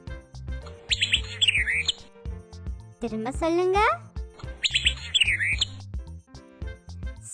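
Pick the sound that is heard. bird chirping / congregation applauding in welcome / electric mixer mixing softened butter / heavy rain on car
bird chirping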